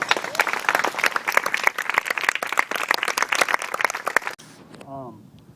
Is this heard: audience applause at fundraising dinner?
yes